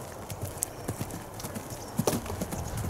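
Horse's hooves cantering during a riding lesson over poles, rhythmic muffled clip-clop beats in quick repeated groups, moderately distant and fairly faint.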